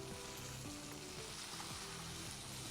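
Dumba karahi gravy fries in a pan during bhunai, giving a continuous, dense sizzle and crackle at a constant level, with a faint background tone underneath and no talking.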